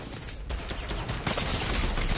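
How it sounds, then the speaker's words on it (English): Several players firing guns at once in Fortnite, a dense, continuous volley of rapid overlapping shots that grows busier after the first second, fairly loud and without speech. "that's when three people shooting at you"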